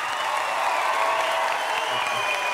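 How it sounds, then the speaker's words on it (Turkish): A studio audience at a Turkish television talk show applauds after a live music performance, a dense, even wash of clapping heard at a distance under a sustained musical tone. "Büyük alkış"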